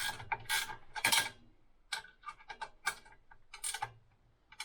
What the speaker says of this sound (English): We're just going to snug this again.